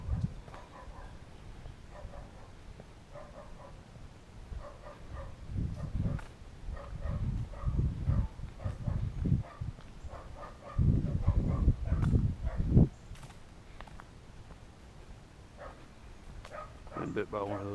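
Small lap dogs bark in the background of a residential neighborhood in Dallas, with several yapping bursts scattered through steady nearby talk and street ambience.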